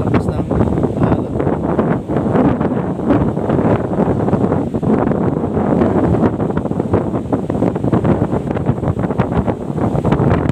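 Strong surf and gusting wind at a shore where a boat is kept, a continuous loud rumbling roar with heavy wind buffeting on the microphone, unbroken for about ten seconds.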